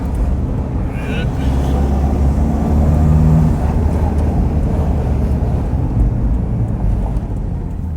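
A Toyota Hilux with a 1KD diesel on +30 injectors pulls out into traffic during a test drive, its engine drone and road rumble rising and swelling steadily, with someone talking over the noise.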